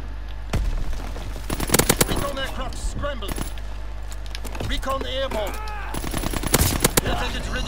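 Call of Duty WW2 video game gunfire: bursts of rapid automatic shots crack out in clusters, loud and close, while a player talks over the action and other in-game effects chirp between volleys.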